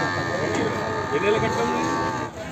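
Buffaloes at a busy buffalo market in Erragadda, Telangana, low moos and livestock noise blended into a steady crowd murmur, with people talking throughout.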